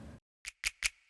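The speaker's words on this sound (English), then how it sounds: "These snap triplets." Three crisp, bright snaps in a quick triplet with a short ringing tail, after a brief bit of low sound, programmed in a fast, dark Jersey drill beat.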